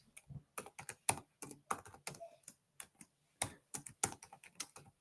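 Rapid, irregular keystrokes on a computer keyboard, close and clear, in short bursts with brief pauses, no talking.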